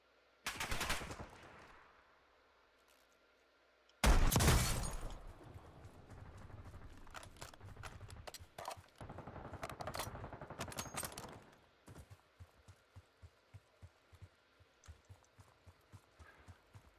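Gunfire from the video game Call of Duty Warzone: loud automatic bursts open the clip and return after a short lull, then a long, dense stretch of rapid shots gives way to steady single rhythmic reports, all without speech.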